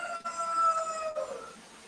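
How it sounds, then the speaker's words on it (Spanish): A rooster crows somewhere near a classroom in Peru, one faint drawn-out call with a rising then falling pitch, heard at a distance over low room noise. "se escucha como si hubiera un gallo"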